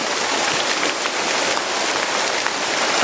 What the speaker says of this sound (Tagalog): Kahit umuulan mga tol,